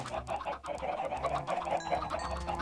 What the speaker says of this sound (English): This chicken seems to be outside the pen.